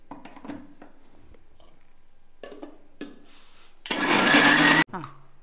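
A mixer grinder whirs through chana dal chutney with tomato in one short, loud, roughly one-second burst near the end, after stretches of nearby talk and small kitchen clicks.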